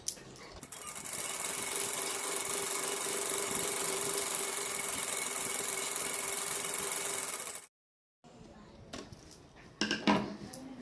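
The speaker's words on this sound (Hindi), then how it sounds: "ये सिलने के बाद अब मैं इसमें एक ऊपर से सिलाई लगा दूंगी इस तरह से।" A sewing machine top-stitching a gown runs in one long steady buzzing whir for about seven seconds, close and loud, then stops abruptly, followed by a few soft handling clicks and rustles.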